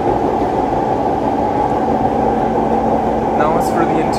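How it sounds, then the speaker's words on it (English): Siemens C651 train from the 1990s running in Singapore, its older-generation Siemens traction motors giving a steady droning hum with a faint melodic whine rising near the end, heard from inside the car. "an older generation traction control by Siemens, and usually those tend to sound very nice and melodious"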